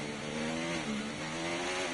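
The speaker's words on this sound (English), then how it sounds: "I do like the engine sounds. I think they're definitely better." A Formula 1 car engine revs in the F1 24 racing video game, a continuous buzzing high-pitched whine with shifting tones, steady and loud throughout with no talking.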